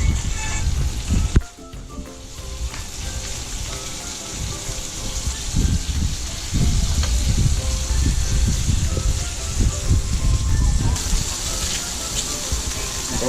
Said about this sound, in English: fry up a little onion, garlic, ginger